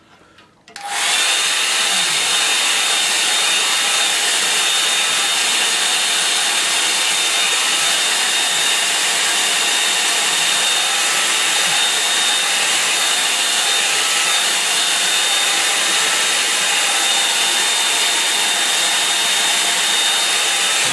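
A hair dryer blows over a wet watercolour painting of a creek scene, switching on after a second and then roaring loud and steady with a constant airy whine, no voices.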